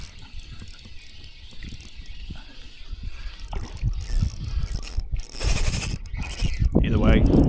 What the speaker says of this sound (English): Line roll is starting to get pretty loud.